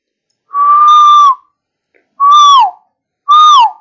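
Three loud whistled tones, the first long and steady, the next two shorter with a downward slide at the end, separated by brief silences.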